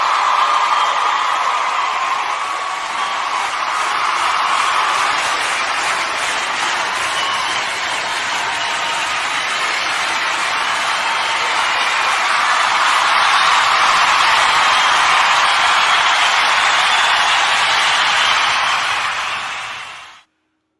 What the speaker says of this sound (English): Let's hear some applause for Dude Bro Moment